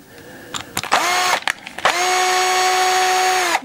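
A cordless power screwdriver drives screws into a wooden hi-fi rack in close, loud bursts: a couple of short whirring spurts, then one long sustained run that winds down at the end.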